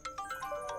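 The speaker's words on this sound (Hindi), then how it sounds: "मम्मी का कॉल आ रहा है।" A phone ringtone plays a quick melodic run of bright electronic tones, clear and close, with no voices.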